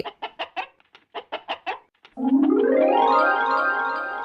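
Hens clucking in a farmyard: about ten short, evenly spaced clucks, close and clear, then a long drawn-out tonal call that rises and holds to the end.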